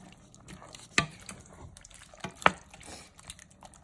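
A spoon stirs chili in a pot with soft, wet sloshing, and two sharp clinks against the pot stand out.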